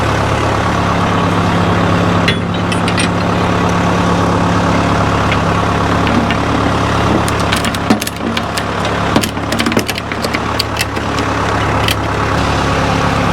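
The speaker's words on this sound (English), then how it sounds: "Just sitting there idling in gear right now." Vehicle engine idling steadily in gear while resting on a trailer, a continuous low rumble with a constant hum running through, close and loud, with a few light clanks and rattles midway.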